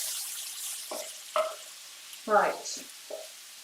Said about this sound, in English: I'm just going to give that a really big stir